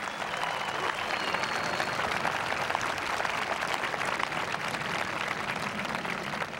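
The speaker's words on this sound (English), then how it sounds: "Let's give them a round of applause for their great leadership." Sustained applause from a large crowd fills a graduation ceremony hall, steady and dense clapping throughout with no break.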